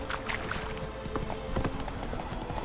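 Horse hooves clip-clop steadily in The Witcher 3 video game. A close, continuous rhythm of hoofbeats plays over dense game ambience, with no talking.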